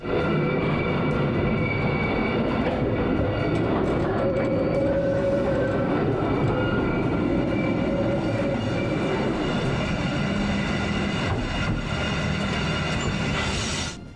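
Train wheels running through a gauge-changing installation, shifting from wide to narrow gauge, give a steady, close mechanical rumble with faint clanks that continues without pause for about fourteen seconds.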